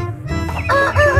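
A rooster crows in a short, close, harmonic call that rises and wavers, with a low steady hum running underneath and no talk.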